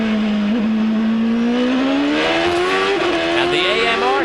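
A race car's engine at the 2005 Champ Car San Jose street race buzzes near the rev limiter, its pitch climbing slowly and holding high with small hiccups, under loud trackside broadcast commentary.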